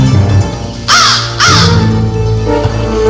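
Two loud, harsh caws from a crow, close by and spaced about half a second apart, over a low steady background hum in an Indonesian film.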